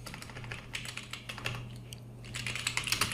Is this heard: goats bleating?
no